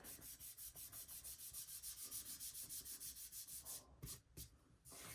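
Fingers rubbing an ink transfer sheet onto polymer clay, a quick steady series of close scratchy strokes, about a dozen even passes, then a few slower, broken rubs near the end.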